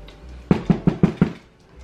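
Five sharp, evenly spaced knocks on a door land in a quick, steady rhythm, loud and close, with quiet room tone before and after.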